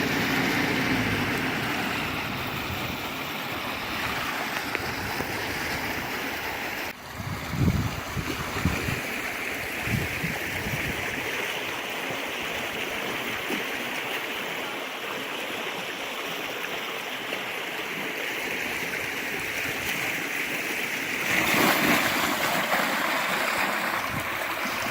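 Floodwater drains out of a flooded pond's backwater in a steady rushing flow, with a few low bumps and a brief louder surge near the end.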